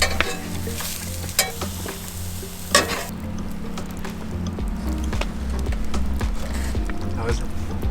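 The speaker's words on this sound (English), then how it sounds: "We got some sausage, broccoli, and carrots going here." Sausage, broccoli and carrots frying in a pan at a below-freezing car campsite: a close, steady sizzle with scraping stirs and a few sharp clatters, while people talk over it.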